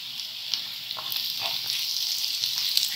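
Egg khagina cooks in oil with a bright, continuous sizzle and soft crackling, with a few faint taps over the short stretch.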